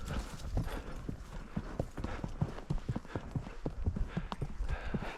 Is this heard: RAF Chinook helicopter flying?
no